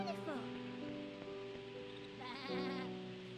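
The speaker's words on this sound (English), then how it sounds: "There's the goat." A goat in the Rule of Rose video game bleats in wavering cries, first at the start and again more strongly near the end, over a sustained tonal musical backdrop.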